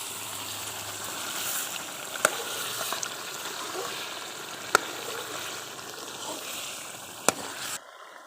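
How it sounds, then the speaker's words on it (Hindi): Beef karahi with spices and tomatoes frying in a village-style pan, a steady broad sizzle throughout, punctuated by three sharp utensil clicks, before cutting off near the end. "आप मसालों और तमाम चीज़ों की दोबारा से भुनाई करेंगे।"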